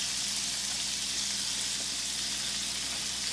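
Onions and portobello mushrooms sizzle steadily in a hot frying pan, a continuous bright crackling hiss heard close up with no voices over it.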